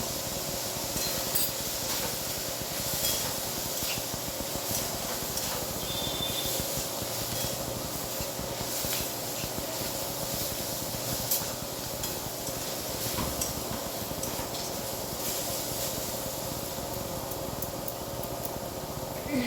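A steady, even sizzle of ground coriander and cumin frying in a hot pan continues without pause, with faint occasional stirring scrapes.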